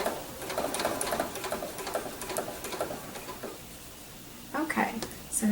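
A sewing machine stitches quilt binding with a blanket stitch, running in steady rapid bursts over the binding join, then pausing briefly before starting again, close and clear.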